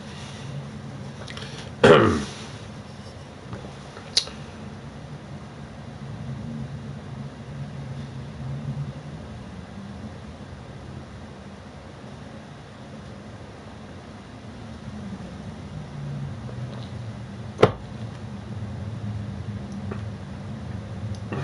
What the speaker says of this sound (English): That's the plane going over.